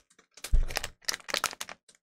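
Crinkly plastic wrapper of a Chinese corn snack being tugged and squeezed while someone struggles to open it, a burst of close, sharp crackling rustles in irregular clusters, fairly quiet, with no talk.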